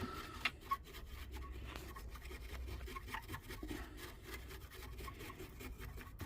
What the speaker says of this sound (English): gently you can do with the brush